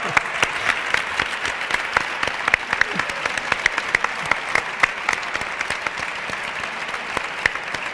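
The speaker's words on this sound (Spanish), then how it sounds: "por favor, un aplauso a Aitana," A conference audience at a yoga event breaks into applause: many hands clapping in a dense, steady patter that holds evenly throughout.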